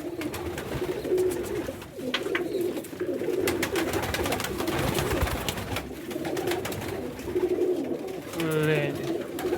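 A pigeon with a sagging crop, handled during a home treatment, coos in low throaty bursts, close by, with wind and someone talking over much of it.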